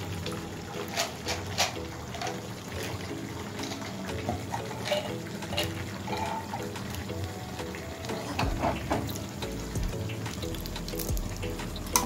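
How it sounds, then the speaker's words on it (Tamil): Almonds and cashews fry in ghee with a soft, continuous sizzle and scattered crackles and pops, quiet and close, with no talk. "அதுக்குள்ள நெய்யை விட்டு பாதாமியும் முந்திரியும் வறுத்து எடுத்துக்கலாம்."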